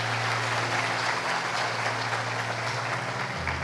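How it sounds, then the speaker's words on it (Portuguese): A church congregation gives a round of applause during a sermon, with steady, moderately loud clapping spread through the room and a low instrumental hum underneath. "Se você crê, dê uma salva de palmas a Jesus."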